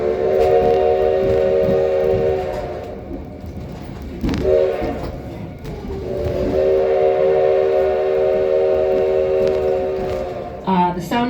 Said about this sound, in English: The sound of the train whistle